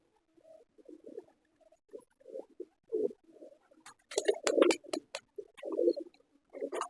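Pigeons on a rooftop coo softly in repeated low, throaty phrases, with some flapping or pecking patter in the middle; no voices.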